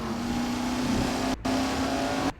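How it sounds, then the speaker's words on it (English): Car driving sound effect laid into an edit: a steady, humming engine drone that cuts out abruptly for a split second and again near the end. "You hear the driving sound effect."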